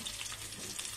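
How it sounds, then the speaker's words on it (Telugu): Dried red chillies and garlic fry in hot oil for a tempering, a quiet and steady crackling sizzle with no talk. "ఎండుమిరపకాయలు వేస్తున్నానండి"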